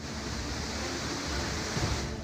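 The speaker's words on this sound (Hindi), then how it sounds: "नीचे पानी का डराने वाला शोर," Rushing water in a rainy mountain setting below a bamboo path, heard as a continuous, full roar of churning flow, steady and fairly distant with no voices.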